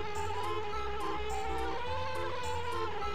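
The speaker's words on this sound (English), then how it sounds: "I mean, it does sound like a bee, I guess." A buzzing bee in the video game Banjo-Kazooie drones on steadily throughout, a thin, continuous insect hum layered with game background sound and no talking.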